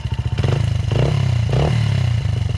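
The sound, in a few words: Honda CRF 80F dirt bike engine idling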